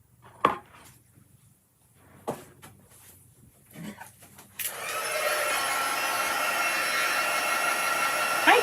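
A heat tool switches on to melt embossing powder for papercraft, a loud steady blowing roar that begins partway in and holds to the end, after a few quiet taps and handling sounds.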